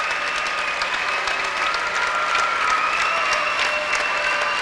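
Crowd in a high school gym applauding departing Lorain Catholic basketball starters during a boys' game, a sustained even roar of clapping with faint crowd noise, no announcer talking over it.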